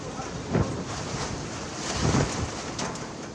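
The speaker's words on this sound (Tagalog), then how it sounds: "Dala ang matinding ulan at hangin." Strong typhoon wind roars and hisses continuously in Cebu, with a wash of heavy rain and gusty bursts buffeting the microphone.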